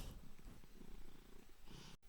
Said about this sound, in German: Und zwar mit dem exklusiven Schnurren